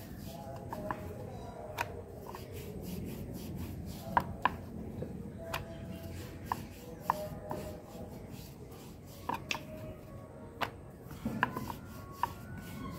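Spinach puri dough being rolled out with a rolling pin: quiet, steady rubbing and scraping with scattered light knocks and clicks, close by.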